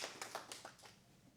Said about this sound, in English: Can I get a round of applause, by the way, for Kamala?